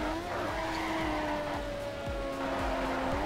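Tires squeal steadily as a GT86 brakes hard in the Torque Drift racing game, with a continuous high screech and a droning engine note throughout and no voices.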